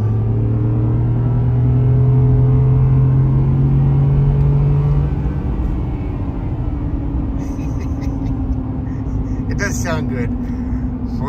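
A 2020 Ford F-150 pickup with a 5.0 V8, 10-speed transmission and 150,000 miles gives a loud, rising engine drone inside the cab as it accelerates hard, with people talking over it.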